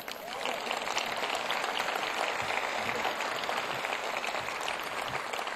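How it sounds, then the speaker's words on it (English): Audience applause at Orlando's 2012 State of Downtown Address, a sustained wash of many hands clapping in a large hall, fairly even and moderately distant for several seconds with no speech. "That's an applause line."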